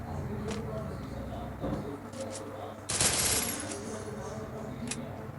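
Bursts of gunfire in the Free Fire video game, several short sharp shots followed by a louder cluster, under a steady game backdrop while someone talks.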